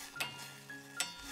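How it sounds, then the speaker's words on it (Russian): A spoon stirs chopped greens in a pot of boiling water, giving two light clinks of utensil against the pot over a soft simmer, close by, with no talking. "Постоянно перемешиваю."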